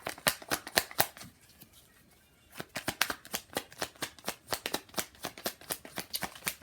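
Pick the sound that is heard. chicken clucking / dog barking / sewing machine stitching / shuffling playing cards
shuffling playing cards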